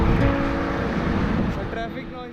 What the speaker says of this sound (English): So traffic noises is a part of this video now.